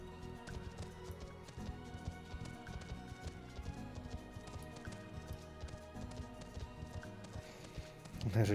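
Clip-clop hoofsteps of a sheep mount in the video game Final Fantasy XIV, trotting in a steady rhythm over a bed of game music, growing louder at the very end.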